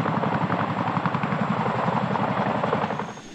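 A tandem-rotor military helicopter flying, a loud, steady rhythmic thumping of blades over a rumbling engine drone that eases slightly at the end.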